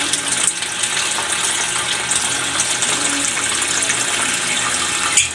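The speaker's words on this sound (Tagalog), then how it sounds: "Lagyan mo natin ito siya ng tubig." Water runs and gushes from a tap into a bowl for soaking milkfish, a steady splashing stream heard close up and alone.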